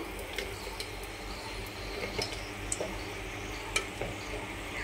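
Whole cumin seeds, a bay leaf, dried chilli and whole garam masala sizzle steadily in hot oil in a wok, a soft continuous frying hiss dotted with small crackles and pops, close and fairly quiet with no talking.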